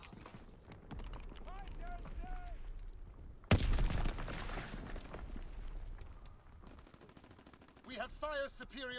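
Machine pistol gunfire in the video game Call of Duty WW2, with a loud burst of shots near the middle amid game sounds, and a voice talking before and after it.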